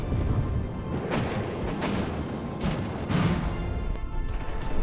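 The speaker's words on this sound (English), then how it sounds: "I suffered a massive internal explosion there." In the game From the Depths, a massive internal explosion rips through a craft under missile fire, with several booming blasts and crashes rising out of a rumbling din.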